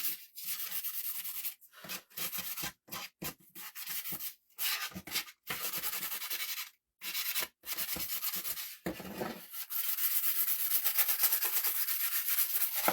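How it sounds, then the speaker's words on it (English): Rough, scratchy rubbing of an abrasive sponge over a surface in short bursts with pauses, then a longer continuous stretch of sanding at the end. "taking my sponge, my sanding sponge"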